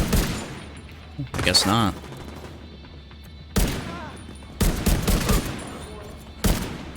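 Gunfire in the video game The Division 2, several separate loud bursts of rapid shots spaced a second or two apart, each cutting off sharply, with a voice speaking briefly between them.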